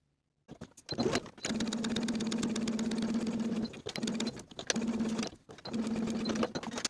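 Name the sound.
sewing machine stitching curved edge of denim skirt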